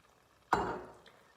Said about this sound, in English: So I'm gonna take some water.